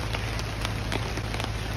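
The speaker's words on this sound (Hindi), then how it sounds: "अभी तो पानी हो रहा है बारिश में" Heavy rain from a storm pours steadily outdoors, a dense, loud, even hiss with scattered sharper drop impacts and no voices.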